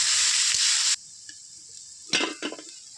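Bitter gourd and potato fry in oil in a pan, a loud close sizzle that cuts off abruptly after about a second, followed by quiet and a few clattering utensil scrapes.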